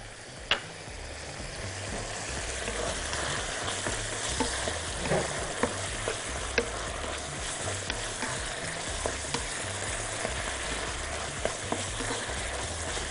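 Onions and vegetables sizzle steadily in a hot pan, a loud continuous frying hiss with occasional sharp pops and stirring scrapes throughout.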